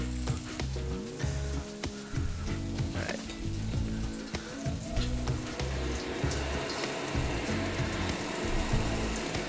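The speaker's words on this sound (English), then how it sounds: "now we have this nice sizzling going on" Beef sizzles and crackles loudly in a hot wok, a continuous frying hiss with scattered pops and the occasional scrape of stirring.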